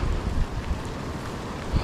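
Strong, steady wind buffeting a microphone beside a roadside brackish-water canal in the rain, a low rumbling roar with occasional louder gusts.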